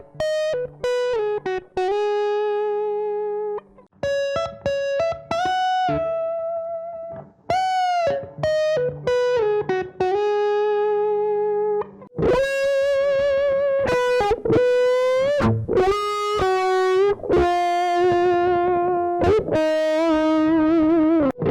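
Clean electric guitars treated with chorus and saturation, in a dreamy style, play melodic intro and solo phrases in a home-studio setting, heard both in the full mix and soloed, with sustained notes and short gaps, loud and upfront.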